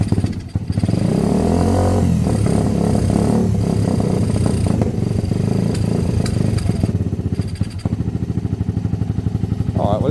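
A motorcycle engine idles steadily nearby with the choke off, running very rich, making a low, uneven chugging putter that rises briefly mid-clip before settling back.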